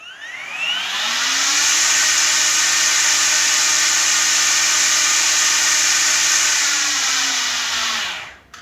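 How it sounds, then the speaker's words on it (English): A Makita DUR368L cordless brushless brush cutter spins up quickly, holds a steady, smooth, fairly quiet motor whine at close range, then winds down and stops at the end, with no talking. "pull the trigger one underneath, and it will start to spin"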